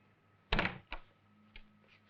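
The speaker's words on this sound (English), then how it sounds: "Now go open the door like a good girl." A door being opened indoors at a cabaret, heard as a loud thunk followed by a second softer knock and a faint later click, close by with no talking.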